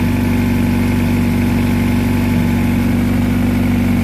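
A Honda Prelude engine idles steadily after a cold start, a loud, constant low drone with a firm hum that holds even throughout, heard close up with no speech.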